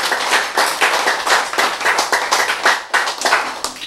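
An audience claps in an indoor lecture hall, with a loud, steady burst of many hands applauding continuously for about four seconds and no voices on top.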